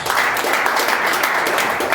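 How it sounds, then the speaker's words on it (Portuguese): A church congregation claps together in a dense, steady wash of applause, loud and continuous throughout with no speech over it. "As palmas bem alegres para Jesus."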